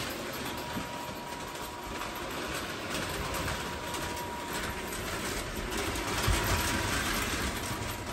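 A 1948 Lionel electric model train runs steadily on its track at 13 volts, giving a continuous close whirring and rattling rumble at moderate volume with no speech.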